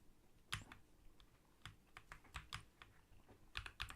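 Keys clack on a computer keyboard in irregular bursts of close, crisp clicks, with brief pauses between the flurries of typing.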